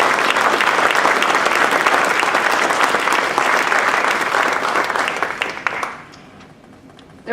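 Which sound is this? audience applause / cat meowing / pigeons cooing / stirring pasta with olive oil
audience applause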